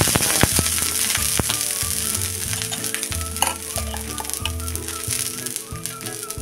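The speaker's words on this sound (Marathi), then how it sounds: "बघा आता तवा आपला चांगला गरम झालेला आहे। त्याला पहिल्यांदा थोडं तेल लावून घेऊया।" Oil sizzling on a hot griddle, the pan being readied for a thick millet-flour uttapam; a steady, close frying hiss runs throughout, with stirring or scraping sounds and a few sharp clicks, no talking.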